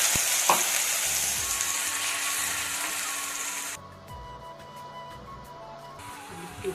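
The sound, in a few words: onion and ginger paste frying in hot oil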